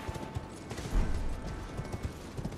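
Rhythmic horse hoofbeats clip-clop at a steady trot over a low rumbling soundscape in Elden Ring: Shadow of the Erdtree, moderately loud and close, with no voices.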